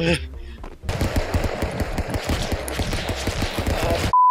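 Rapid AR rifle fire in the cartoon brawler Stick Fight: The Game, a sustained fast stream of sharp shots over a few seconds, opening under excited voices and ending in a short tone.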